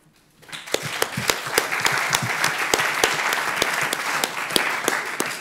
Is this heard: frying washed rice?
no